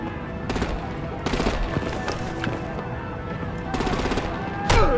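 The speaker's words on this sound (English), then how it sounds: "Break out the artillery and disable their vehicles!" Automatic gunfire bursts in the Batman: The Enemy Within Telltale game, several short rapid volleys over a steady combat rumble, fairly loud, ending with a sharper whooshing blast.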